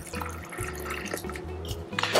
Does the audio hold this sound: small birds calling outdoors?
no